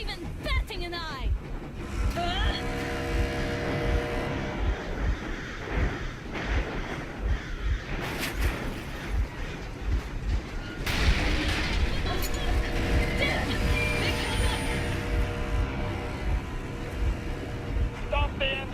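A boat engine runs in Metro Exodus, giving a steady, loud rumble with heavy booms and surges under voices talking throughout.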